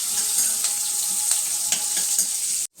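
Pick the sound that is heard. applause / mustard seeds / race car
mustard seeds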